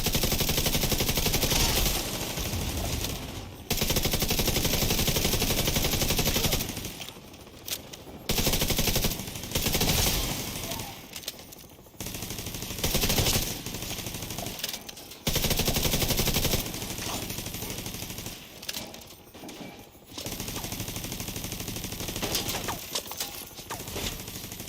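Automated turrets firing in Division 2: sustained loud bursts of rapid automatic gunfire, broken by short pauses, with dense overlapping shots throughout.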